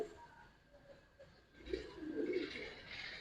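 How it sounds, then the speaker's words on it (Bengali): Giribaz high-flyer pigeons coo softly, a few low throaty calls that swell in the second half, faint and close with no speech. "এইগুলা ভাই কালো গলা কবুতর"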